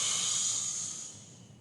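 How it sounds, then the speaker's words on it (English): A long steady exhalation during a yoga session, a soft close airy hiss that slowly fades away. "And breathing out."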